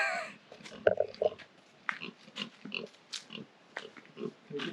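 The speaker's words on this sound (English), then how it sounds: "he wants to show us his pig" A pig in mud in French Polynesia gives repeated close grunts and snorts in short irregular bursts, with some quiet rustling between them.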